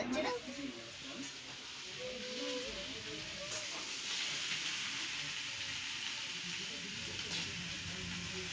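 Vegetable curry of spinach, radish, eggplant and potato sizzles steadily in a pan, a broad continuous hiss running throughout while a nearby voice talks over it in the opening seconds.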